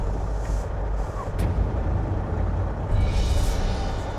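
A heavy rescue truck rumbles close by on a steep mountain highway, a deep steady engine with brief hissing bursts of air brakes, loud and continuous without talk.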